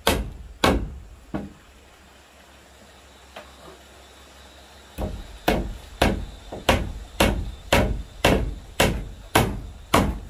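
A hammer strikes wood while a wooden wall is built for a house: a few separate heavy blows, a pause, then a steady run of about a dozen loud, sharp, evenly spaced strikes close by.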